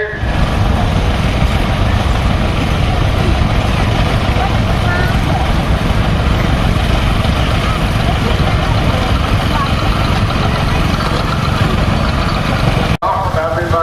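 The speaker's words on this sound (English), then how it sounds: "And this is my 1965 John Deere." A restored 1965 John Deere tractor idles at a John Deere expo in New York, with a loud, close, steady engine rumble that runs on evenly and then cuts off abruptly.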